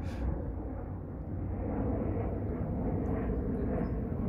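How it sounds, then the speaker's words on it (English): A steady, broad low roar fills the whole stretch, like a plane engine droning overhead at a distance, constant with no break. "And it's aeroplane time again."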